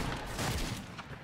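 Rapid bursts of gunfire from an online multiplayer shooter game fill a dense, loud 1.3-second stretch, with overlapping shots and no pause between them.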